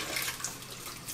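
A bathroom tap runs water into a basin during denture rinsing, giving a steady, fairly close hiss and splash without pauses.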